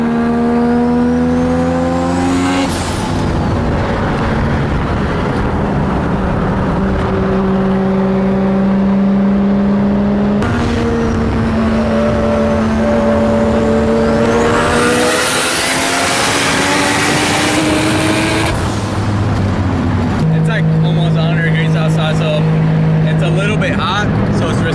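A Mazda RX-7 FD with a 20B rotary engine races at a drag strip, its loud in-car engine note climbing in long rising pulls between gear shifts, dominating throughout with some talk underneath.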